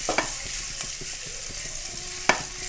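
Eggs frying in ghee for a Mangalorean egg ghee roast, a steady sizzle broken by sharp spatula taps and one louder scrape near the end, with no voices.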